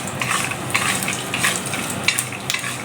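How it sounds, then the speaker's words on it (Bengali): Peanuts frying in a little oil in a pan, with a steady sizzle broken by scraping stirs and light clinks of utensil against metal, close and clear. "এবার এর মধ্যে আমি তেল অ্যাড করব, একটুখানি তেল দেবো, তাহলে এটা একদম মুচমুচে ভাজাটা হবে।"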